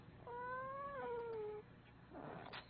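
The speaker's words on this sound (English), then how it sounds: "No, that's my cat." A pet cat lets out one long, rising-then-falling squeaky meow close by, followed by softer rustling and a faint short chirp, with no talking.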